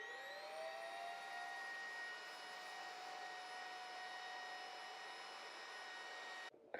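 An Aspiron lightweight cordless vacuum cleaner runs at a steady, close whine for several seconds with a rising motor tone at start-up. It cuts off abruptly near the end.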